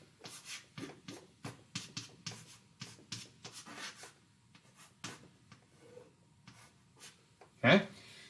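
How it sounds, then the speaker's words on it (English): A pen scratches across paper in short strokes and taps while an equation is written out, quiet and close, with a louder scrape or knock near the end. "Let's write that down."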